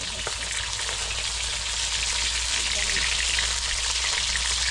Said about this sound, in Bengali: দেখো এখন আস্তে আস্তে মাছগুলো ভাজা হয়ে।